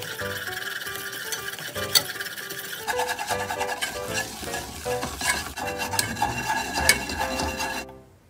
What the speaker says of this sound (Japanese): 菜箸とか使ってずっとね出来上がるまで混ぜ続けましょう